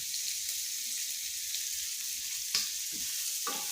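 Close, steady sizzle of garlic frying with shrimp in a pan, with a few sharp stirring clicks near the end.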